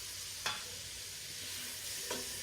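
Capsicum, onion and chopped chili stir-frying in a hot pan for a pasta dish, giving a steady broad sizzle with two brief scrapes of the spatula stirring, no talking.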